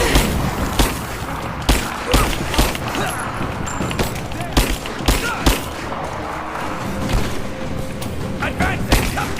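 Gunfire rattles through a firefight in Rise of the Tomb Raider, with repeated sharp shots and bursts in an irregular rhythm over dense battle noise while voices shout nearby.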